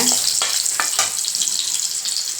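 Loud, dense sizzling of a piece of tamarind frying in hot oil, with a few sharp crackles and spatters early on.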